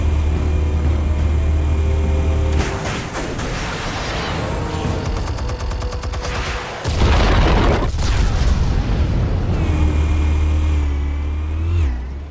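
Explosives detonating in Batman: The Telltale Series, heard as a string of heavy booms and crackling blasts after a deep rumbling drone, loud and close, with bursts of debris-like noise in the middle.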